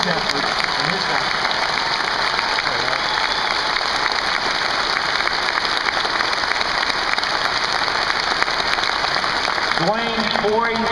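A rally crowd applauds steadily and loudly for about ten seconds, dense clapping filling the space, before a voice begins speaking over the fading applause at the end.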